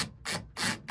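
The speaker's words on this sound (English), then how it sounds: "I'm just going to screw it in. So these little tiny screws are 8 millimeters." Small 8 mm screws being driven in to mount an EG4-12000XP off-grid inverter on a wall, giving three close bursts of bright whirring rasp separated by short pauses.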